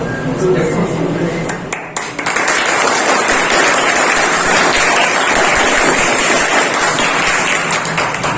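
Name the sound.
audience applause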